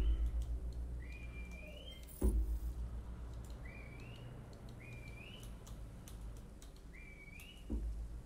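A whistle call in the dinosaur park game Jurassic World Evolution 2 sounds as several short rising two-part whistles, repeated at a steady pace over low ambient game noise and a few soft thumps.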